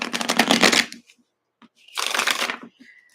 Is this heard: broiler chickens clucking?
no